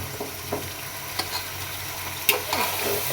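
Chicken and potatoes fry in a pan for a chicken korma, a steady close sizzle with a few spatula stirs and scrapes scattered through, no talking.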